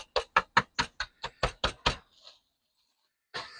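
Oreo cookies crushed inside a bag, about ten sharp, evenly spaced thumps in quick succession, then a faint rustle and a brief scrape at the end, loud and close with no talking.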